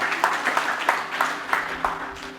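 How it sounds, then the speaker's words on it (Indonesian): A church congregation claps in steady rhythmic unison, roughly three strong beats per second, the sharp collective claps repeating evenly and close. "Berikan dulu tepuk tangan bagi Tuhan"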